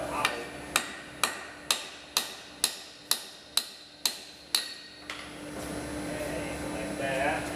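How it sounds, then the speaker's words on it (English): A wheel stud is hammered out of a Kenworth C500 road tractor's brake drum: about ten sharp, evenly spaced metallic blows in quick succession, followed by quieter workshop background. "it's going to pound this stud out"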